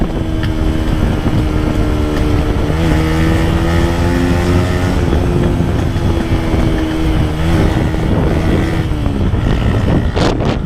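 A motorcycle engine runs flat out at top speed, producing a loud, constant roar with steady harmonic whine and heavy wind rumble throughout, close and unbroken.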